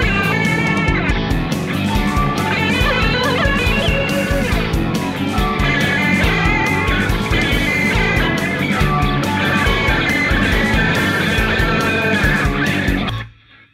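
Electric guitar fed through EQ, a monster fuzz, bit decimation and a rotary stomp box plugin, giving a dense, organ-like swirling tone; a continuous loud riff played alone that cuts off abruptly at the end.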